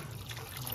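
Water runs steadily over a hilsa fish head being rinsed, a brief, continuous close trickle and splash with no pauses.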